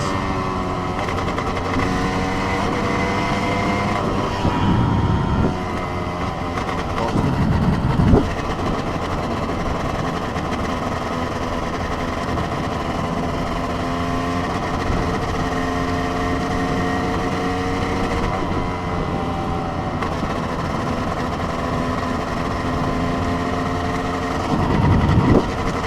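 A Honda CR250 two-stroke supermoto motorcycle engine runs steadily at speed with a sustained harmonic drone, punctuated by several brief revs and gear-change surges, loud and close.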